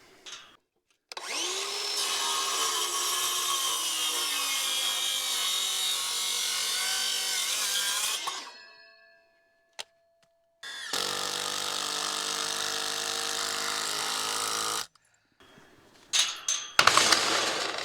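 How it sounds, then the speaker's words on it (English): Wood being chiseled out while building a four-board fence for a corral: two long, steady grinding bursts of about seven and four seconds separated by silence, then short choppy scraping at the end. "I gotta chisel this out right here as well"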